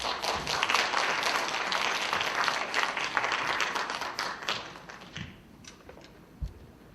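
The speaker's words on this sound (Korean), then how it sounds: "큰 박수 부탁드리겠습니다" Audience applause at an atopy and asthma prevention program results ceremony in Busan, a dense sustained clapping that tapers off after about five seconds into a few scattered claps and a thump.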